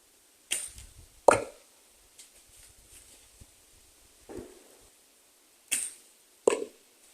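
Arrows loosed from a regular bow strike a 3D archery target outdoors near woods, each release followed by a sharp thwack; five distinct impacts come at irregular intervals, fairly close and loud against a quiet background.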